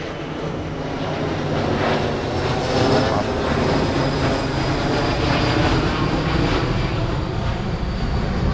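An airplane flies overhead near Halim airport, producing a loud, sustained roar that swells slightly and stays steady throughout, with nothing else standing out.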